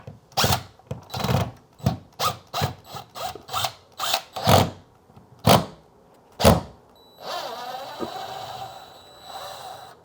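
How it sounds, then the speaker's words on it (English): Old curtain rod hangers are worked loose and pulled out of a wall in a home office remodel, with a run of sharp, loud bursts from a power tool, then a steadier mechanical whir toward the end. "I'm gonna get the old curtain rod hangers pulled out."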